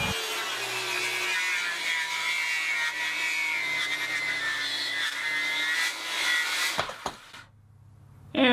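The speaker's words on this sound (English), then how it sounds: "Give me a nice 90-degree angle, and my handy dandy circular saw." A circular saw converted into a homemade track saw rips through black walnut in a steady, loud high whine for about seven seconds, then winds down and stops, followed by a brief clatter.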